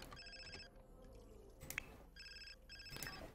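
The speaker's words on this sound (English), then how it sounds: "your boss is calling. You should pick up" A phone ringing in The Sims 4, a quiet electronic ringtone in two short repeated bursts of bright tones separated by a pause, heard alone without talk.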